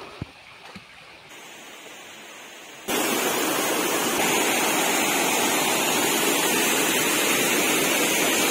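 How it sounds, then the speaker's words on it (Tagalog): Steady, loud rushing water from 7 Falls in Matanao, Davao del Sur, roars continuously, a broad wash of falling water that grows fuller partway through and stays constant. "nandito na kami sa pinagmamalaki nilang 7 Falls"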